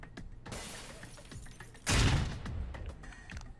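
A grenade bursts through a window in the video game Alpha Protocol, a sudden loud shattering crash with a heavy low thump, rising out of steady background game noise and trailing off into scattered debris.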